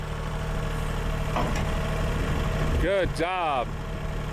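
A tractor engine idles in a low steady rumble throughout, close by, while a voice speaks briefly over it.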